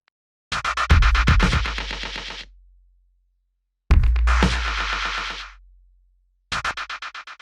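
Delay taps run through a sweep-left pan shape effect: three loud bursts of rapid, stuttering repeats, each ringing for a couple of seconds before cutting off, separated by short silences.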